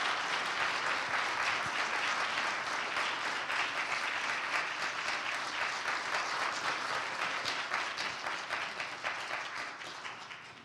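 An audience at an anniversary event applauds to welcome a pastor. The clapping is dense and sustained, holding steady before slowly tapering off at the end.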